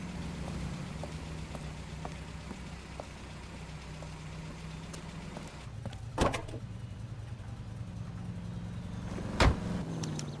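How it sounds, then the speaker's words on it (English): A cab car driving in the video game LA Noire: a steady low engine drone with road rumble, broken by two sharp thuds near the end, no talking. "Don't lose that cab."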